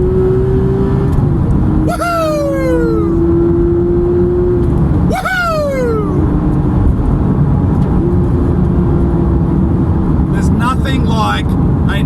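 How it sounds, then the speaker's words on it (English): A Porsche's naturally aspirated flat-six revs hard at an early-morning drive day, with several rising and falling sweeps passing close and loud over steady road rumble and wind, while people talk and cheer. "Like a naturally aspirated flat 6."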